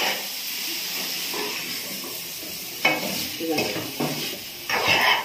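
Chicken frying with chili powder in a pan, a continuous near hiss and sizzle broken by louder bursts of stirring and scraping, no one talking.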